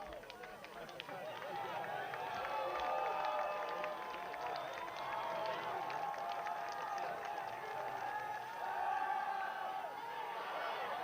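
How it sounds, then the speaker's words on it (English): Jamestown fans on the near sideline of a college football game make a sustained crowd roar with cheering, steady throughout, swelling slightly around the middle and end. "Some noise from the Jamestown crowd on the near sideline trying to get a 4th down stop."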